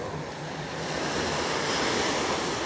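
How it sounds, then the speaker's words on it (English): Surf washing onto a flatter beach in Barbados, a steady broadband wash of waves that swells slightly louder toward the end, with no talking. "let me just show you the beach first. This place is a bit flatter beach."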